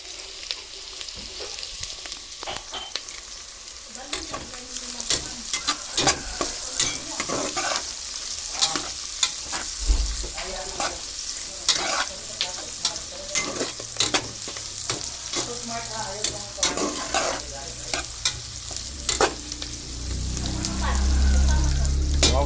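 Garlic frying in a pan gives a constant close sizzle packed with sharp crackling pops, plus a louder rumbling surge near the end.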